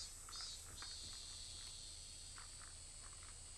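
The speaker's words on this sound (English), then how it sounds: "The chorus of cicadas separated us from them," A dense chorus of cicadas from the Higurashi video game, a steady high-pitched shrill drone over a low background hum, continuous and moderately loud throughout.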